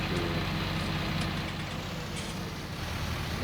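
Low, steady idle of a tractor engine in a farming video game, a dull throbbing hum holding even throughout with faint higher tones drifting above, no voices.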